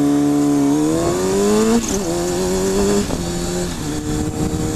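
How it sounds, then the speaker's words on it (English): A car launches hard from a drag strip stop line, its engine revving loudly with rising pitch through a gear change, close and dominant throughout. "That was not a good place to accelerate fast."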